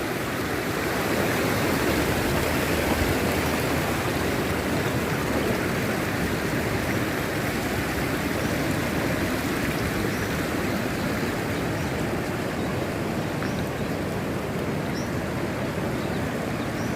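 The Varuna river flows in a steady, loud rush of water, a continuous broadband roar without breaks, heard close and alone.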